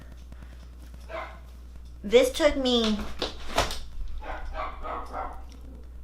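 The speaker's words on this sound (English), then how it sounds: "My dogs are barking, as usual." Several dogs bark in quick, high yelping bursts in the middle, close by, mixed in with someone talking before and after them over a steady low hum.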